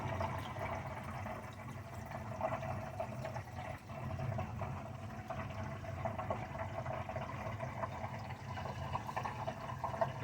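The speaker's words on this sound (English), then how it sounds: "Alright, the sump is getting at it. There it goes, it's overflowing." Water steadily pours and splashes as it overflows into the sump of a Waterbox Marine 45.2 nano reef aquarium, a continuous trickling rush with a faint low pump hum underneath.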